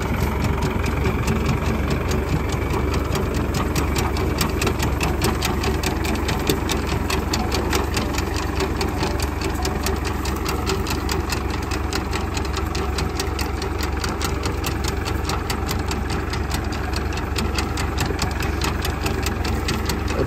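A tractor-drawn potato digger works a field, its engine droning steadily with a rapid, even mechanical clatter repeating throughout, close and continuous with no talk.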